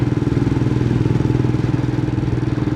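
A Royal Enfield Himalayan 411 motorcycle, just back from a valve replacement, idles steadily with a loud, close, even low thump and slight clatter throughout.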